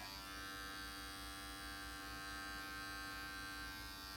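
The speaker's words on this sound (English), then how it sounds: "The advantage of the adjustable blade clipper is that you can get a lot of different lengths out of it." Adjustable blade electric hair clipper running during a short clipper haircut, a steady close buzzing hum with no pauses or voices.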